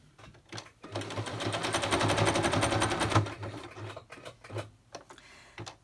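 A sewing machine zigzag-stitches onto a junk journal in rapid, rattling bursts, with a long run in the middle and short quiet gaps between stitching stretches.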